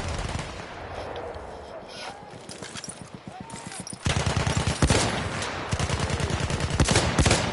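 Rapid machine-gun and rifle fire in a World War I shooter game, steady staccato bursts that grow louder and denser halfway through, with occasional talk over the shooting.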